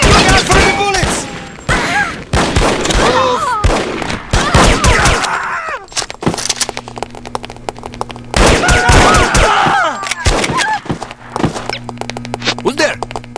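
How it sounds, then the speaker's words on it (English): Bursts of gunfire from the PC spy shooter The Operative: No One Lives Forever, dense volleys of shots clustered in two loud spells with a short lull between, mixed with voices talking in the game. "Look out for the bullets!"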